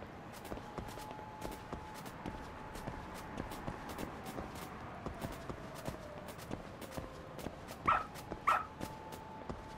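A dog in the video game Lost Judgment gives two short, close barks near the end, over a steady patter of rapid footsteps and faint background ambience, with no talking.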